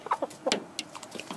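Hens cluck in short, close bursts, several sharp calls over about a second and a half as a flock reacts to a new hen being added.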